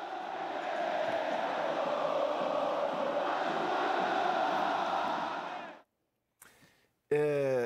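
Vasco football supporters roaring in a stadium, a dense, sustained crowd din that holds steadily for nearly six seconds, then cuts off abruptly before a brief voice.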